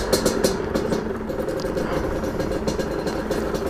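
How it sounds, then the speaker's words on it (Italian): A motorcycle engine runs at a steady idle close by, a continuous low rumble with no talk over it. "Ho girato la chiave, l'ho spenta la moto."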